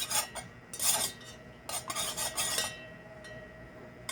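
A utensil stirs melted candle wax in a pot, making soft, quiet scraping strokes in irregular bursts.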